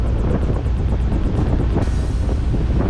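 Strong wind buffets the microphone in a constant roaring rumble, with a quick series of high chirping squeaks at first.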